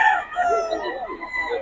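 A rooster, likely a gamefowl, crows in one drawn-out call that fills the short moment at close range and fairly loud, with no talking over it.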